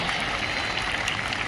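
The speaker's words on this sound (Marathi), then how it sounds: "टाळ्या." A crowd applauds at a school Republic Day celebration, a steady, even wash of many hands clapping that fills the moment without a break.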